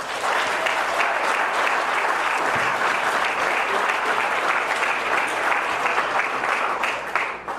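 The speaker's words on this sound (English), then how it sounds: "a big round of applause" Sustained, loud applause fills a hall of fame ceremony hall, a dense, even wash of many hands clapping without pause for over seven seconds.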